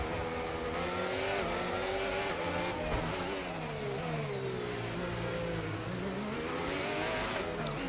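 An F1 race car engine in the video game F1 25 screams continuously at high revs, its pitch rising and dipping through gear changes and corners, loud and steady with no talking.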